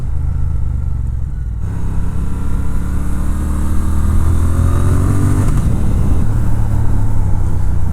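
A Triumph Speed Twin motorcycle being ridden, its engine droning loud and close with rising pitch as it accelerates, a brief gear change midway, then pulling on strongly.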